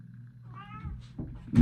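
A kitten meows once in a craft room, a short, clear, near cry that is followed by some thumping handling noise, with a steady low hum running underneath.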